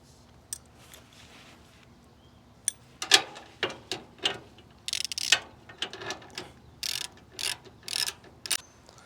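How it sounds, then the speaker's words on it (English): Ratchet and wrench tightening the mounting bolts of a Senville Leto mini-split condenser, giving bursts of quick clicking pawl strokes with short pauses between, close and moderately loud, with no talking. "Now we'll just snug them down with a ratchet and a wrench."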